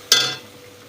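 Mustard and green chili paste hits hot oil with a sudden close sizzle that flares briefly, then fades to a low steady hiss.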